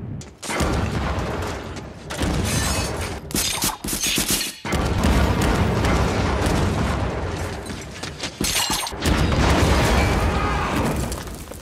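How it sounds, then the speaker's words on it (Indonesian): A landmine blast triggered by a tripwire: a sustained barrage of loud blasts and rapid gunfire-like bangs, dense and continuous with brief pauses, close and overwhelming. "salah satu tentara memijak tali pemicu ranjau sehingga ledakan dahsyat terjadi"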